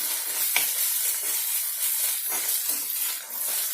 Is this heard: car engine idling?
no